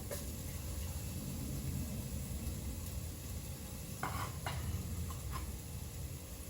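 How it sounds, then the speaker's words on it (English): Shallots fry in a pan with a steady, even sizzle, with a couple of faint clinks of a utensil partway through. "A nice little sizzle."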